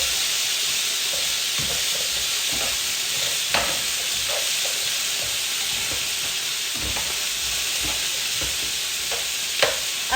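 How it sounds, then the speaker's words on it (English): Vegetables searing with a bunch of thyme in a hot pan make a loud, steady hiss and crackle throughout, dotted with scattered stirring clicks and scrapes, close up with no talking. "obviously now I also need to sear the vegetables"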